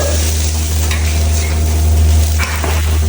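Loud, steady hiss and sizzle of water poured into a hot wok to rinse it, with faint scraping and stirring sounds over a low constant rumble.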